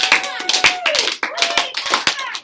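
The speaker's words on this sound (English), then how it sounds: "Let's give Hunter 5 claps." A classroom of students claps in unison five times, loud and close, in a quick rhythm marked by sharp broadband slaps, with a teacher's voice speaking over and between the claps.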